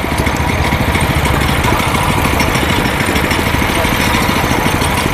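A 7 hp chain cultivator engine runs steadily through a live demonstration, a loud, continuous mid-pitched engine drone with a rough, knocking undertone and constant vibration and no pauses.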